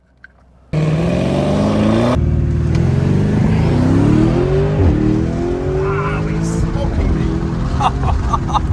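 Hard acceleration from a 905 hp Lotus Eletre electric hyper SUV during a launch test, a loud sustained rising whine and road roar that kicks in abruptly and builds, with people talking over it.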